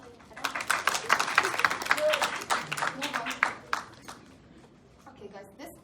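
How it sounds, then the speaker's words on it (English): Students in a biology revision class clap for a classmate who answered correctly: a few seconds of scattered, moderately loud hand claps that fade out into quiet room noise. "Clap for him, please."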